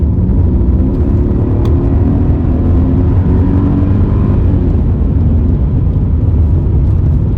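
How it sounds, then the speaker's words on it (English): Steady, heavy low engine rumble from a Mercedes E55 AMG W210 under way in second gear, continuous and loud with a deep droning tone throughout. "even the exhaust note, it sounds really spectacular"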